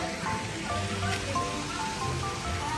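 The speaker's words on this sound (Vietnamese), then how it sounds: "hôm nay trời mưa nữa" Rain falls steadily at a family holiday house, giving an even, continuous hiss of moderate loudness with a few faint tonal traces beneath it and no clear speech.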